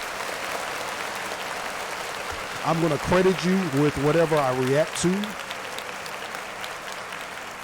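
Steady crowd applause rolls underneath a livestream reaction show as someone speaks over it midway, the clapping continuing as a constant background wash before and after his talking.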